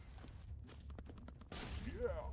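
Indiana's special gun in the retro side-scrolling game Broforce fires a quick string of short shots, followed by a louder whooshing burst. Someone talks over the game sounds.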